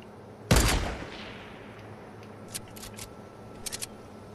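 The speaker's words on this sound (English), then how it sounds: "Shooting at me." A single loud, close gunshot in a video game cracks and decays over half a second, followed later by faint distant clusters of rapid shots.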